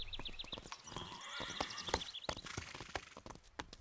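Pepper the horse lets out a faint, strained neigh that rises and wavers in the middle, surrounded by scattered clicks and knocks like shifting hooves.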